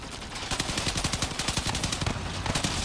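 Rapid automatic gunfire from the vehicle combat game Crossout, a dense stream of sharp shots in quick rhythm that runs close and loud for the whole stretch.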